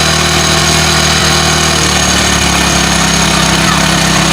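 Motorcycle engine idling steadily while the air-fuel mixture is adjusted and the RPM lowered, a loud, continuous close-up hum with a constant low throb throughout.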